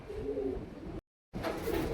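A pigeon coos in low, soft, rolling calls broken by a brief silent gap, heard close with faint background noise and no talking.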